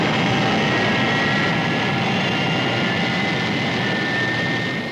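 Thunderbird 1 rescue aircraft lifting off as a television sound effect: a loud, steady jet roar with a high whine, sustained throughout, with no voices.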